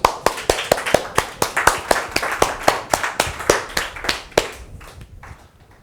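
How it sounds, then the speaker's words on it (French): Steady, evenly paced clapping from a small audience at a hypnosis demonstration, loud and close, with sharp claps that thin out and fade over the last second. "allez on l'applaudit."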